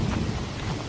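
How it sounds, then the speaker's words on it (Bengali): Heavy rain pours down at night over a paddy field. The downpour is a dense, constant roar with low rumbling and no voices. "অন্ধকারে চারিদিক শুধু বৃষ্টি পড়ার আওয়াজ"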